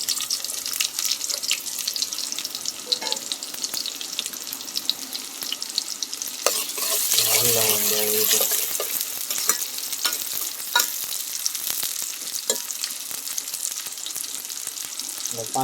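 Onion frying with cumin in hot oil, a loud continuous crackling sizzle close up with frequent stirring scrapes and a brief bubbling burst partway through, no voices.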